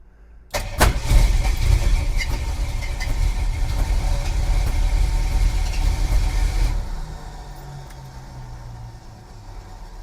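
A 1976 Jeep truck that sat for 29 years cranks and fires, its engine running loud and rough up close for several seconds before cutting back to a quieter idle-like rumble.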